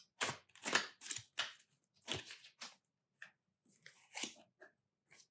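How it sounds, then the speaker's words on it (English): Tarot cards that are stiff and hard to shuffle are handled and shuffled close up, giving a quiet irregular series of papery riffles, slaps and rustles with brief pauses between them. "are nice, even though they're not easy to shuffle."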